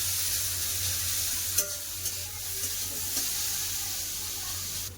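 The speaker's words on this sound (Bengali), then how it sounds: "এবার আলুটা ভালো করে ভেজে নেব" Potatoes and bitter gourd fry in a pan with a constant close sizzle, broken by a few light stirring knocks.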